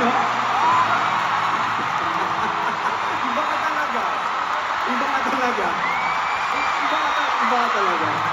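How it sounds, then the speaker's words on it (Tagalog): A dense crowd yells, whoops and cheers for celebrities at a live event, a loud continuous roar with voices and scattered shouts rising out of it. "Mas malakas yung sigaw nila sa'yo."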